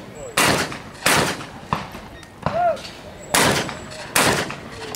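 A 20-gauge shotgun at a 2014 NSSA championship skeet shoot-off fires a string of sharp, loud blasts, about five or six in total, spaced irregularly across the range and echoing outdoors.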